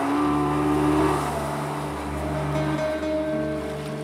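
A motorised pirogue is stranded crosswise in a river current, its engine running steadily with a continuous low drone and water wash, loud and unbroken throughout, with no voices.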